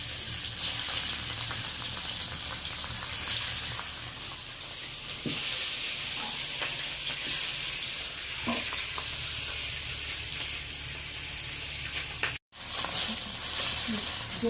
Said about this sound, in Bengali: পরের মাছগুলো কড়াইতে তুলে দিলাম।